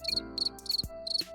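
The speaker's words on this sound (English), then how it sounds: "Which one of you fuckers just played the crickets?" A cricket chirping sound effect plays as a clear, rhythmic run of short, high trilling pulses in quick bursts, with no talk over it.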